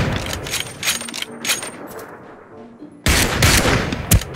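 Gunfire in the shooter game Ring of Elysium, sharp shots cracking within game ambience, with a louder, denser barrage breaking in abruptly around the three-second mark.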